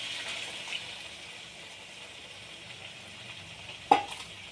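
Capsicum and beaten eggs hiss softly in oil in a frying pan, a quiet, even sizzle with one sharp clink near the end.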